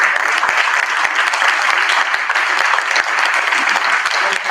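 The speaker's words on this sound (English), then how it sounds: "we can applaud our team, I mean, all of the people who are here" An audience at a digital forensics and security symposium claps for the event team, a steady dense round of applause sustained throughout without speech.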